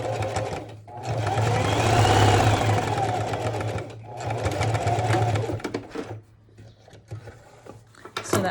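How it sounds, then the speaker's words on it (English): A sewing machine stitches a fabric face mask in close bursts of rapid whirring, with short pauses and small handling clicks between runs. "take it to the sewing machine needle."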